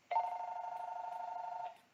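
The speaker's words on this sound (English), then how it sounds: "it's a phone ringing that it's not important" A single electronic phone ring, one sustained warbling tone lasting about one and a half seconds, faint and alone against near silence.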